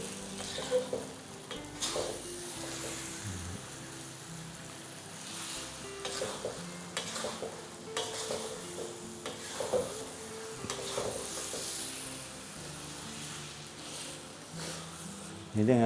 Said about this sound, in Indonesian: Harus kita aduk terus